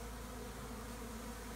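A gentle swarm of honey bees in Hampshire, a dense continuous hum of many wings, steady and faint with no voices.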